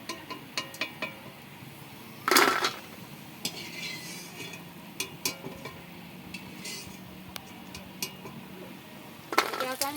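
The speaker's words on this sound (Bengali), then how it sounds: "আমি পকোড়াগুলোকে তোলার জন্য এখানে একটা ছাঁকনি ব্যবহার করছি।" Metal strainer scraping and clinking against a pan while lifting fried chicken pakoras out of the oil, with scattered clatters and a couple of louder knocks near and under soft background sounds.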